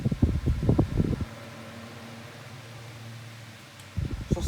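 Two Tesco 9 inch oscillating desk fans running together, a steady airy whir with a low hum. Close, uneven rustling bursts come at the start and again near the end.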